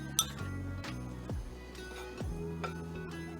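A spoon clinks repeatedly against a mixing bowl as Coca-Cola cake batter is stirred, with a few sharp close taps spaced irregularly over a steady tonal background.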